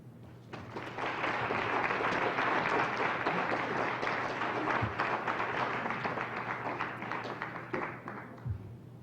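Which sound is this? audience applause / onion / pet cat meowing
audience applause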